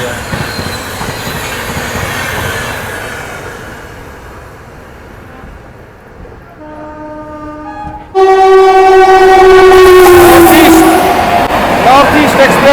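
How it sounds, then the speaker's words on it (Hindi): A train passes at close range while the North East Express crosses, giving a steady rolling rumble. A loud sustained horn blast cuts in and then holds, with squealing tones above it. "नॉर्थ ईस्ट एक्सप्रेस क्रॉसिंग हो रही है भाई।"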